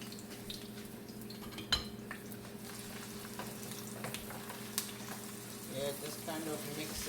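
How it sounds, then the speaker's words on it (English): Blended onions frying in a pan give a steady close sizzle, with occasional clinks of a utensil stirring against the pan and a voice speaking faintly now and then. "I'm gonna put the onions and I'm gonna start like cook the onions"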